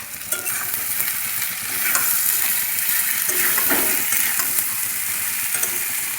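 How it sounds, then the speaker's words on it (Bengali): Ridge gourd sautéing with spices in a pan, a loud steady sizzle and frying hiss with scraping stirs and small wet splashes throughout. "এবারে ঝিঙে দিয়ে ভালো করে কষিয়ে নেব।"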